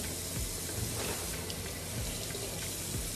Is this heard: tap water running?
yes